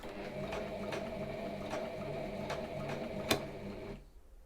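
Sewing machine running steadily with calico fabric under the presser foot that fails to feed through; a continuous close mechanical whir with faint periodic ticks, stopping near the end.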